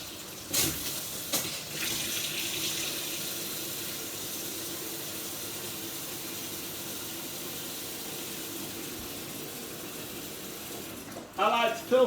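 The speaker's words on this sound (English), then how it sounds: "I like to fill sink right up." A newly plumbed kitchen tap runs steadily into a sink, filling it to the top with an even, constant rush of water from start to finish, framed by a few brief knocks and clatters.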